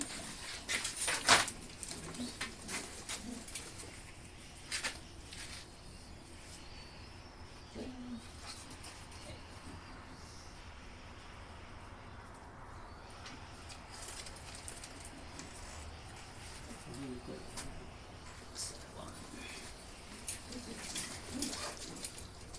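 Pigeons coo softly in the distance among other birds, low murmuring calls scattered across a faint outdoor background with occasional clatters and light movement; a voice is faintly present.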